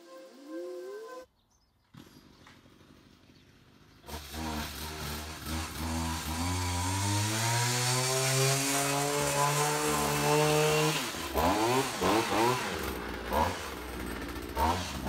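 A Stihl line trimmer converted into a hedge trimmer starts after a few short pulls, then runs loud and close, its two-stroke engine climbing to a high whine and dropping back in several blips of the throttle.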